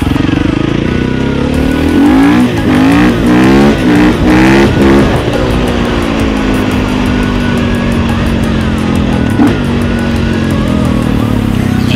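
A KTM 450 EXC motorcycle engine runs loud and steady while riding, its revs rising and falling in wavering pulses before settling into a sustained drone.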